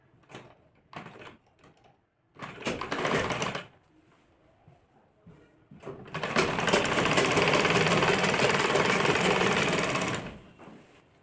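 A sewing machine stitches the collar seam of a kurti in a few short bursts, then runs in one long, loud continuous whir lasting several seconds before stopping, close up with no talk.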